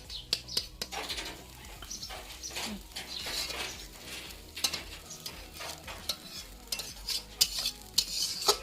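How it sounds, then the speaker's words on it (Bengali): Egg frying in a pan in a village kitchen, a soft sizzle under repeated sharp scraping and clinking stir strokes of a metal utensil, close and irregular, with faint bird calls in the background. "ডিমটা একটু ভালো করে ভেজে নেব।"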